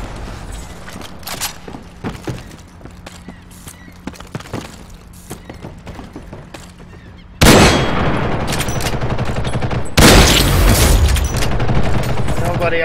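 Gunfire and sniper shots in Ghost in the Shell game, sparse sharp cracks and clatter building into dense, loud sustained bursts of automatic fire in the second half.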